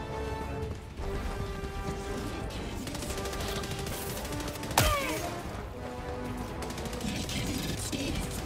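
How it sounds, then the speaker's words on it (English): Machine gun fire in the video game Helldivers 2, a steady stream of rapid shots under ongoing combat noise, broken by one sharp loud crash around the middle, with a player talking now and then. "Machine gun almost took me out."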